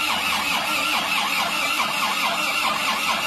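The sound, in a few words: Suzuki Panther pickup engine being started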